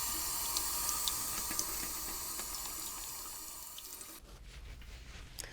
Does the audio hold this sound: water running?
yes